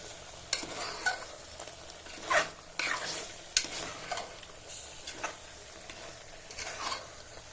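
Mutton pieces coated with chilli powder are stirred in a pan with a spoon, giving irregular scraping and clinking strokes over a soft background sizzle, close and moderately loud.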